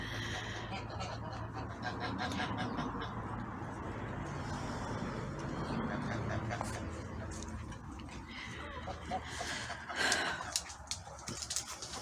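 Hens cluck intermittently in the background beneath someone speaking, with scattered chirps and farmyard noise throughout.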